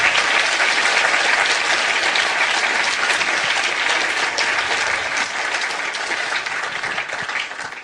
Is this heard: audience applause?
yes